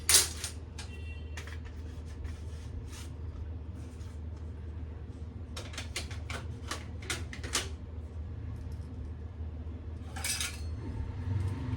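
Metal kitchen utensils, including a small grater and a spatula, clink and rattle as they are put away in a kitchen drawer, with several bursts of jangling over a low background hum and no speech.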